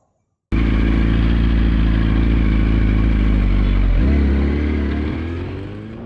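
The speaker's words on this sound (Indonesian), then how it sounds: "nanti kita akan lihat cuplikan motornya waktu test ride" A 2008 Yamaha R1 1000cc motorcycle engine starts abruptly and runs loud and close with a steady, deep drone, then shifts pitch slightly and gradually fades as the bike pulls away on a test ride.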